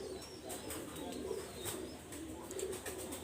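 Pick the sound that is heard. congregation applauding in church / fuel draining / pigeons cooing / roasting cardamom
pigeons cooing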